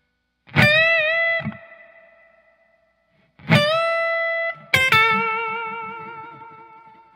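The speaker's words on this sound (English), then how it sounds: "a classic blues lick" Electric guitar with distortion and effects playing a classic blues lick in A: a few bent, ringing notes struck in separate bursts, each sustaining and slowly fading, loud and close with no talking.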